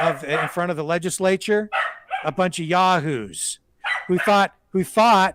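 A dog barks indoors in a few short bursts, mixed in with a man's steady, continuous talking that stays louder throughout.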